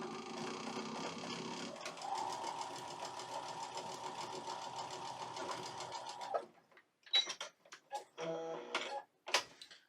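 A sewing machine stitching quilt pieces: a steady, close whirring hum with a rapid needle rhythm runs for about six seconds, then stops, followed by scattered rustling and handling of fabric.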